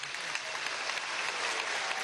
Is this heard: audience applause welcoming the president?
yes